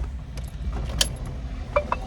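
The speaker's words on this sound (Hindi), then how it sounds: "चाबी ऑन करिए" A car key jingles briefly and clicks as it is turned in the ignition. The quiet, close metallic taps sit over a low background hum.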